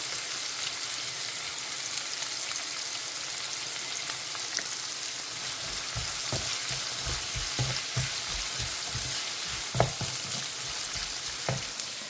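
Onions sauté in oil in a pan with a constant close sizzle, and partway through a run of soft rhythmic spatula scrapes and taps joins in, with no voices.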